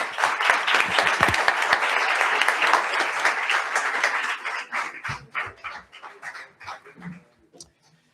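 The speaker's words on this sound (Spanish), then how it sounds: "démosles un aplauso" Applause from a conference audience at a talk on the judiciary in Spain's 1978 Constitution starts dense and full, then breaks into scattered, individual claps that die away.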